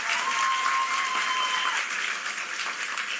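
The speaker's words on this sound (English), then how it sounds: "Class of 2026, please give your support system a round of applause." A graduation audience at an adult continuing education commencement applauds their support system, a dense, steady wash of clapping from a large crowd that holds strong throughout and tapers only slightly toward the end.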